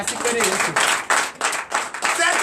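A church congregation at a Sunday worship service claps in acclamation for Jesus, loud rhythmic bursts of hands in a quick repeated pattern, with voices mixed in among the clapping.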